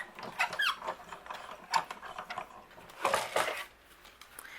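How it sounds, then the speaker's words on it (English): Platinum 6 die cutting machine cranking a letterpress chase through, quiet uneven ratcheting clicks and gear squeaks in short bursts with small pauses between turns. "we're going to run this through my Platinum 6 die cutting machine"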